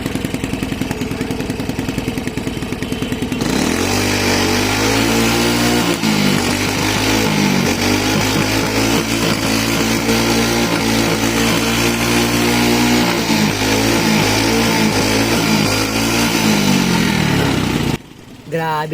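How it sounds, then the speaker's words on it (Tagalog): A small Choi nori scooter engine idles loudly and close, its steady putter revving up and down before cutting out near the end. "At dito naman, ipaparinig ko na sa inyo ang kanyang makina."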